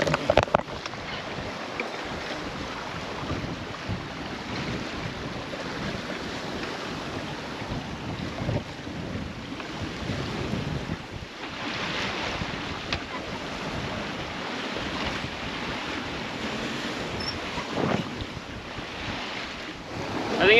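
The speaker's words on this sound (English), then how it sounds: "the sea state's pretty lively" Waves slosh and wind roars steadily around a sailboat on a lively sea between Whangarei Heads and Great Barrier Island, New Zealand, with heavy wind buffeting on the microphone throughout and no talking.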